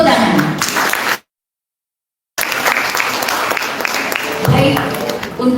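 Audience applause at an Indonesian anniversary celebration and workshop, a broad wash of clapping with crowd noise that cuts out to silence partway through, then resumes at full strength.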